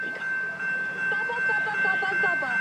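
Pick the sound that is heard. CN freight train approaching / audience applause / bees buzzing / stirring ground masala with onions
CN freight train approaching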